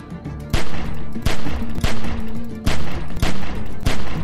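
Gunfire rings out in the Walking Dead: 400 Days video game as loud, rapid volleys of shots in quick repeated bursts, close and dense, with no talking.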